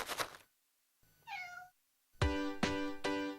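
A cat meows several times in a cat treat commercial: an early soft sound, a rising mid-length meow, then a close, loud run of three sharp meows after short silences.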